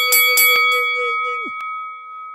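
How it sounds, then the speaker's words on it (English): Notification bell sound effect: a few quick metallic strikes followed by a bright ringing tone that slides down and cuts off, then a single clear ding that rings on and fades, loud and close, with no speech. "hit that notification bell like"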